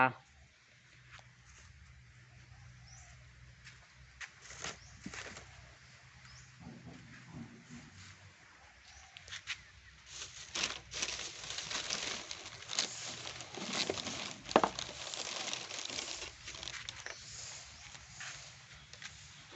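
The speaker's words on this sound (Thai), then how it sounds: "ฝนลงเม็ดแล้ว" Rain begins falling outdoors at a Thai temple, a soft broadband patter that thickens and grows louder partway through, with people talking nearby.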